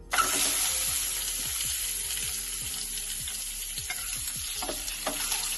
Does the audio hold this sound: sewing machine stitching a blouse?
no